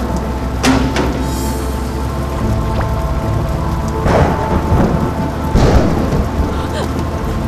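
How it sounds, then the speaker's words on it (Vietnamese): Heavy rain pours steadily in a thunderstorm while several loud thunder cracks and rumbles break through, with a faint voice underneath. "Trời ơi, sao như siêu bão vậy?"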